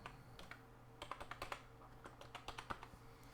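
Clicky keystrokes on a computer keyboard while a digital swatch is set up, coming in quick irregular bursts of taps at close range, fairly quiet with no voices over them.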